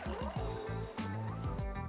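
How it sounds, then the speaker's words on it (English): Four cups of water pour into a cooking pan, a close, continuous gurgling stream with bubbling splashes as the pan fills. "In a pan, I'm putting to boil 4 cups of water."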